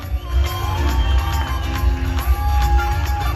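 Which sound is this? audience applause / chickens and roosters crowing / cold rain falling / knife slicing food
audience applause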